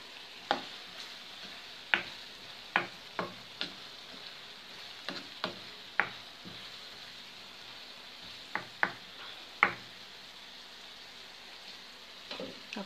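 Sarmale, stuffed vine-leaf rolls, stirred in a pot, giving a string of sharp scraping clicks spaced irregularly over a soft steady hiss, close and fairly quiet with no voices.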